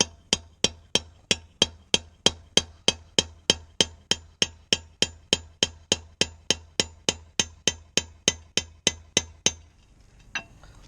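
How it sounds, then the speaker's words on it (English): A hammer strikes a chisel against the back of a brake disc on a Mitsubishi Triton/L200, giving about two dozen sharp metallic blows in an even rhythm, close and loud, then a short pause. "using the chisel, I'm just going to hammer at the back"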